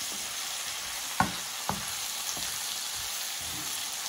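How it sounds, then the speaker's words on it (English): Mushrooms and garlic sauté in a pan with a steady, even sizzle throughout, broken by a few light clicks of a utensil moving the food. "So I'm gonna let this cook for about, I don't know, 5 to 10 minutes"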